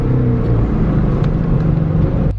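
A Nissan S15 engine of about 900 horsepower idling fast and loud close by, a steady low rumble with a faint whine on top.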